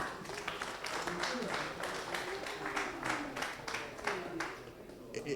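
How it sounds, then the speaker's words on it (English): An audience at a bank's corporate social event claps steadily for several seconds, a dense patter of hands with voices talking over it. "A round of applause for Kayode"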